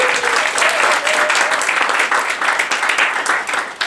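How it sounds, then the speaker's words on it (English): Audience applause at a talk event honoring assistant directors, a dense, steady wash of many hands clapping close and loud throughout, with no talk over it. "So a round of applause for those folks."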